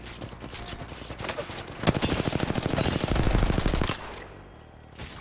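Rapid automatic gunfire from the video game Apex Legends, dense bursts building in intensity over a few seconds before dropping off, with layered shots and impacts close and loud.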